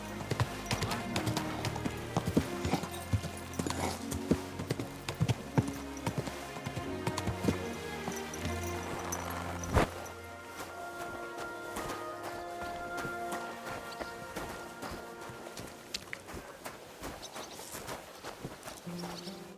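Horse hooves clip-clop steadily at a walking pace in a medieval open-world game. A dense, continuous stream of hoofbeats runs over a busy ambient bed and becomes lighter and sparser partway through.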